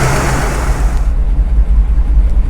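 A 1974 Chevrolet C10 engine running at a steady idle, a close, low, even rumble that holds throughout with a slight pulsing texture and no voices.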